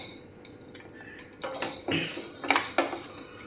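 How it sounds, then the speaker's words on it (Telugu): Urad dal being dry roasted in a pan for sambar powder: a utensil scrapes and clinks against the metal in a few quick, irregular knocks and rattles, fairly close, with no talking. "నెక్స్ట్ మినపగుళ్ళను కూడా వేయించేసుకుందాం."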